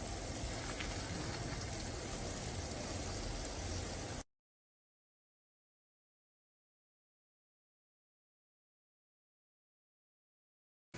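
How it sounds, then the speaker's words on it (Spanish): Water coming to a boil in a pot gives a dense, steady, close hiss and bubble. It runs for about four seconds, then cuts to silence. "Mira, ya empezó a hervir"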